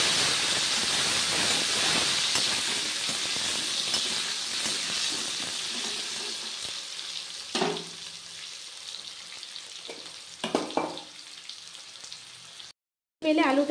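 Potatoes for a Bengali fish curry sauté in hot oil, a steady hiss and sizzle that gradually fades, broken near the end by a few clanks of a spatula against the pan, no voices.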